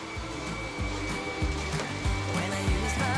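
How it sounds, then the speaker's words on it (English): Ryobi animal stick vacuum running up close with a steady loud motor whine, with rhythmic low thumps as the head is pushed back and forth across the floor. "It'll suck the sock through a beater all the way up the tube and actually put it in the canister."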